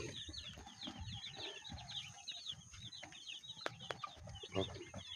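Clucking and chirping from a flock of 45-day-old chickens, a steady bed of soft overlapping calls near and far, with a few louder chick peeps standing out toward the end.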